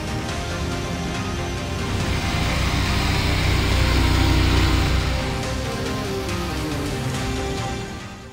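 Aprilia Tuareg 660 parallel-twin motorcycle setting off, a steady engine hum that swells gradually as the bike pulls away and then eases, heard near and alone with no talk.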